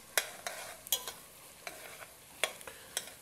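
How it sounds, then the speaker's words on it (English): Calabaza squash gets stirred into onions and garlic in a pot, with a series of quick scraping strokes over a faint low sizzle, close but quiet and free of speech. "We're going to give that a stir."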